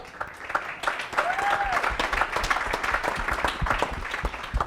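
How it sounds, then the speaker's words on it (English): A crowd applauds a coach being introduced at a coaching event, with steady, dense clapping that fills the whole stretch and a brief whistle partway through. "now that we got the clapping out of the way"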